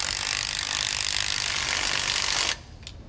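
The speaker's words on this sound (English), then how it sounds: "we're going to use a 9/16 socket to tighten it down" A 9/16 socket on a ratchet tightens the lower bolt of a Roadmaster rear anti-sway bar on a 2015 Ford F-53, making a steady, loud, close mechanical whirring rattle for about two and a half seconds, then stopping abruptly.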